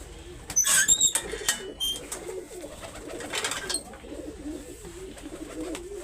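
Pigeons cooing in a loft, soft repeated throaty coos with occasional wing flutters and sharp chirps nearby, a voice speaking briefly at the start.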